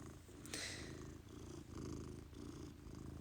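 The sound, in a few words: cat purring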